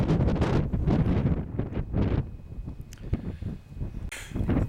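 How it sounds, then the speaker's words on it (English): Strong wind gusts across an open Lake District fell near Haystacks above Buttermere, a loud, steady roar buffeting the microphone with rushing, fluttering noise that eases off briefly and then surges back. "You can see the wind whipping across."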